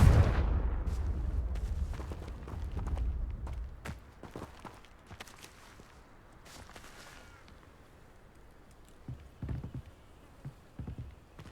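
The Confringo fire spell in Hogwarts Legacy bursts with a loud, booming blast at the start that rumbles and decays over several seconds. Lighter scuffing and clattering sounds follow, with a few smaller thumps later.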